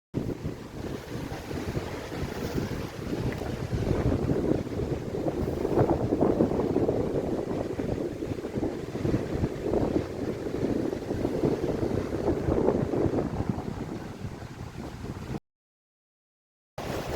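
Wind gusts roar steadily across an exposed clifftop at night with a bit of rain, a dense, buffeting rush close to the microphone that holds for about fifteen seconds before cutting out briefly.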